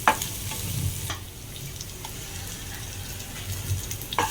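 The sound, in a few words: ginger garlic paste frying with curry leaves, stirred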